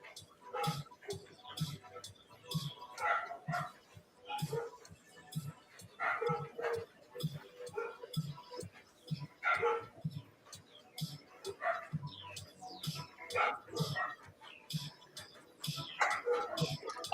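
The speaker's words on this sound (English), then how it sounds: "Sorry about the dogs." Several dogs bark in repeated short bursts at a distance during a live drawing stream, quiet and irregular, spread across the whole stretch.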